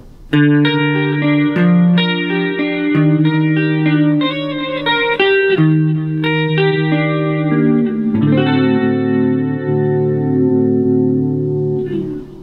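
An electric guitar plays a clean tone through a Positive Grid Spark Mini amp, with clear sustained picked notes and chords in a flowing phrase that rings out and fades near the end.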